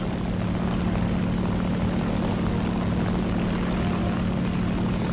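A loud, unbroken propeller-engine drone of an overheating Japanese aircraft in a flight video game fills the whole stretch, steady and close, with no voices.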